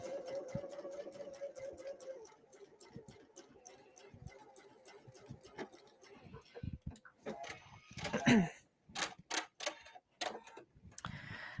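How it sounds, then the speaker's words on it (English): A sewing machine stitches a separating zipper in bursts of rapid, evenly spaced mechanical ticks, close up, with short pauses and some handling clatter between runs and no talking. "I'm going to go ahead and stitch this while I'm at it."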